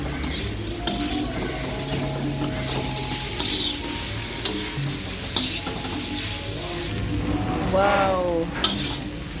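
Wild fiddlehead ferns are stir-fried in a pan with a little MSG, cumin and coriander, giving a steady close sizzle with scraping stirs and a brief exclamation from a voice.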